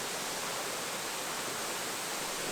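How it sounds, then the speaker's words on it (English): A high waterfall in Madeira woodland pours as a steady, dense broadband roar of falling water, constant and fairly close throughout with no voices. "And the waterfall is quite high actually,"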